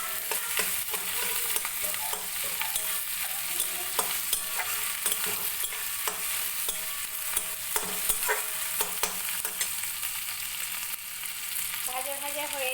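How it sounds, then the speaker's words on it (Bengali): Spices frying in hot oil for an egg curry, with a steady sizzle and repeated scraping and stirring of a spoon against the pan, loud and close throughout. "ভাজা ভাজা হয়েই গেছে, আর একটু ভাজা হয়ে গেলেই মশলাটা দিয়ে দেবো। এগুলো একটু তেলে দিচ্ছি।"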